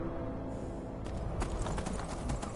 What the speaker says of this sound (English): Another wild horse.